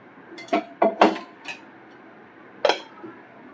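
A spoon clinks against a bowl while salt, sugar, citric acid and oil are stirred into water for nylon khaman batter, giving several sharp separate taps in a quiet room.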